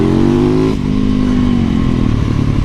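Small dual sport motorcycle set up for supermoto and off-road, its single engine revving loud and close, a steady buzzing drone that dips briefly then holds high throughout, with no talking.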